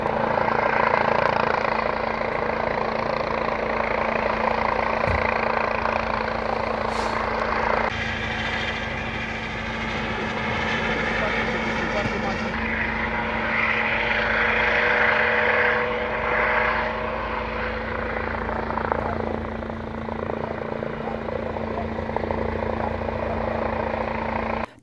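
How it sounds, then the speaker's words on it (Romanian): A SMURD rescue helicopter landing at a road accident scene, its rotor and engine giving a steady, loud, continuous drone with a constant low hum throughout and no talk. "La fața locului a aterizat și un elicopter smurt care trecea prin zona."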